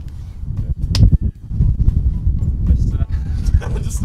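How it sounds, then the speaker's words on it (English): A quick hand clap on an outdoor film set, a couple of sharp close slaps near the start, followed by gusty wind rumble and people talking. "Do it again. Clap again."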